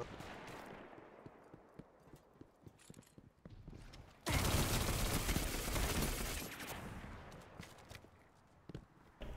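Gunfire in Destiny 2 PvP: rapid, irregular weapon shots and clicks, then a loud sustained burst of fire or explosion for a couple of seconds, fading back to scattered shots.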